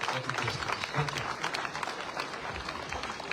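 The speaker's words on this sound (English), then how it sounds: "Let us continue also giving him a round of applause." A crowd at a high school thanksgiving service breaks into sustained, dense applause, many hands clapping steadily with a few voices faintly mixed in.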